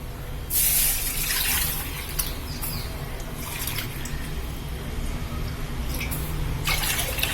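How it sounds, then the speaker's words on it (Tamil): Two cups of water pour into a cooking pot in a home kitchen, a splashing, gurgling stream that starts abruptly and runs steadily, loud and close, with a few spattering drips near the end. "இதுக்கு 2 கப்பு தண்ணி ஊற்ற போகிறேன்"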